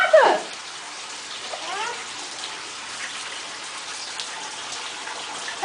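Water running and splashing in a bathtub where a small child is being bathed, with a brief louder splash at the start followed by a steady soft trickle and gentle movement in the water.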